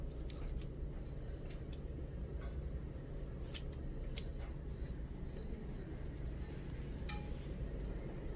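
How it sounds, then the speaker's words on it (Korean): Scissors snip through macrame cord for a tassel wall hanging, a few sharp, quiet cuts spaced apart over a steady low hum. "제일 끝줄, 바깥줄 두 줄을 40cm 위치에서 두 줄 잘라주세요."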